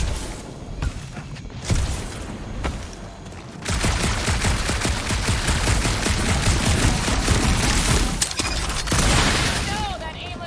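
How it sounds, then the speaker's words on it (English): Sustained gunfire in the game Guardians of the Galaxy: a few scattered shots at first, then from about four seconds a dense, loud, continuous barrage that runs to the end. "that aimless shooting isn't gonna scare the monsters away"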